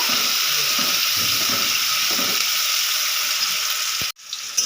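Chopped onions sizzle steadily in hot oil in a pan while being fried for a Bengali chicken curry, a loud continuous frying hiss that suddenly cuts off near the end.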